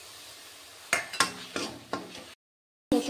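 A spice paste of ginger, chili and ground spices fries in oil in a pan, heard as a soft sizzle broken by several sharp scraping stirs of a spatula, then a brief silence and another stir.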